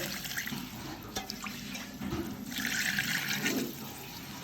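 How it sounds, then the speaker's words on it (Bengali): Water is poured into a pot of khichuri, giving a soft continuous splashing trickle that swells slightly toward the end. "তো পানিটা দিয়ে দিল।"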